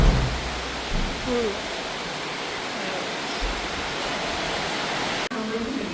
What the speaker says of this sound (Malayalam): പിന്നെ ഗൈസ് ഭയങ്കര മഴയാണ്